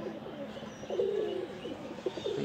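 A golden pigeon, a young breeding bird kept for flying, coos in soft, low repeated phrases close by over a faint background hum, with no talking.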